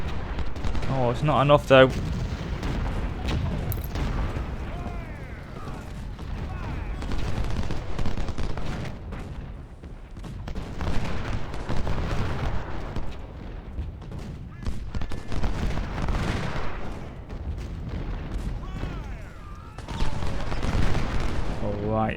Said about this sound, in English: Can you get a volley off before they get you, please?